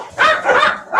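Dogs bark in a short, close burst of two or three sharp, loud yaps with a slight whiny edge, heard on their own with no talking over them.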